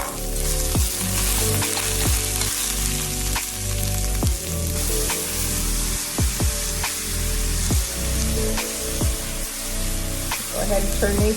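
Spiralized zucchini noodles sizzle and fry loudly in a hot pan, with intermittent stirring or tossing clatters breaking through the steady crackle.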